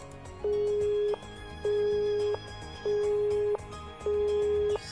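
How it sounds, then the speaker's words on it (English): Busy-signal tone after a dropped cell phone call in the visual novel game Nekopara: four evenly spaced electronic beeps, each about three-quarters of a second long, separated by short gaps and sounding loud and clear over faint background music. "As the ruthless electronic buzz of the drop call echoed, I stared at my cell phone"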